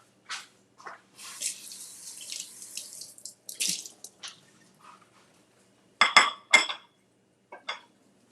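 Crab legs rinsed under a running kitchen tap: short, irregular bursts of splashing water, some sharp and loud, mixed with light clinks of items in the sink and quiet gaps between.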